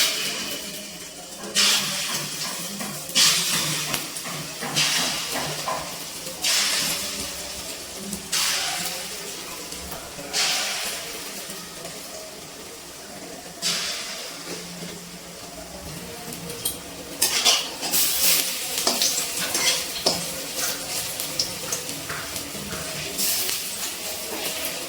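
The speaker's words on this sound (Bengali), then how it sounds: "বাকি বড়াগুলো একইভাবে ভেজে নিচ্ছি।" Lentil fritters (dal bora) fry in hot oil, giving a steady hiss with repeated louder bursts of crackling sizzle that come and go, close up and without talk.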